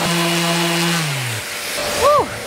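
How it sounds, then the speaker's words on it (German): A powered sander works on wooden wine holders in the background, its motor humming steadily before winding down, followed by a brief whirring rise and fall. "Was man im Hintergrund gerade hört, ist Annika, die ist gerade am Schleifen"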